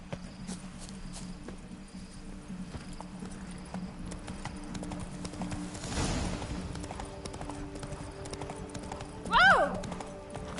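Roach the horse from The Witcher 3 trotting along with steady clip-clopping hooves over ambient game sound, then a short whinny near the end; a voice talks over it.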